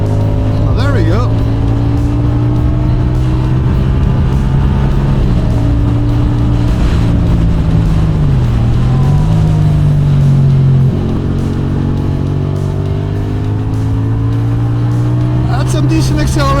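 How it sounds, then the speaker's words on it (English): A CFMoto CLC 450 bobber motorcycle accelerates hard, its engine note rising through steady harmonic bands with a brief gear-change dip, loud and close throughout, with wind rush over the ride. "Some decent acceleration."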